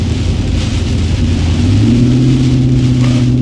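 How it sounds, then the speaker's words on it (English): Heavy rain pours in a dense, steady roar, with a low engine hum underneath and no voices. "It's raining like a big dog."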